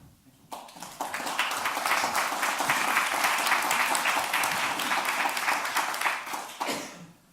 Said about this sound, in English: I'll take that as applause for my arrival, not Steve's completing.